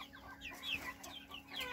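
Young chicks and hens from a backyard flock cluck and peep in several short, close calls, with faint rustling around them.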